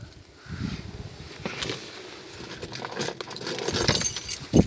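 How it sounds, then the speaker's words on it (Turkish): Keys rattle and jingle in a few short bursts near at hand, mixed with rustling and shuffling movement, getting busier toward the end. "Şuradan anahtarı da alayım ben."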